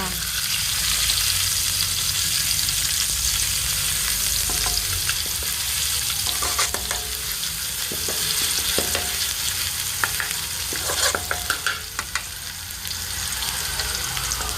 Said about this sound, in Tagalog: Sunod ko na ang sibuyas. Lagay ko na.